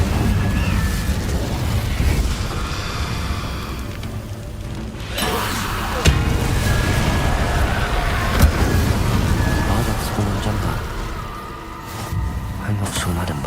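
In Hogwarts Legacy, an Incendio fire spell is cast with a roaring, explosive burst of flame over steady rumbling game noise, with talk running alongside.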